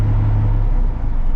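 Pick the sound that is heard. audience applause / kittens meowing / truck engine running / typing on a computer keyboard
truck engine running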